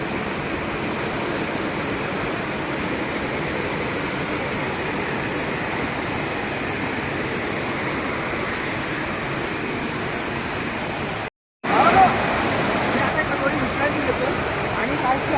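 The Veer Ranpat waterfall roars in a dense, continuous rush of falling water, broken by one brief silent gap before the roar returns.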